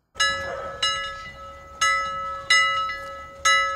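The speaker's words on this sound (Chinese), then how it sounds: "邮差的铃声突然清脆地响起来了。" A postman's bell rings out clearly in about five separate bright strikes, each with a ringing decay, spaced unevenly across a few seconds with nothing else around.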